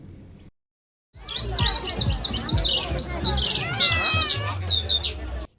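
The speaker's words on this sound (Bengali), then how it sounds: "এই পুজো প্যান্ডেলে পাখিদের যে কিচিমিচি আওয়াজটা দিয়েছিল না জানো তো খুবই ভালো লাগছিল শুনতে" Recorded bird chirps and tweets play loudly through the sound system at a Durga Puja pandal, a dense, lively chorus of calls after a short silence, with faint voices mixed underneath.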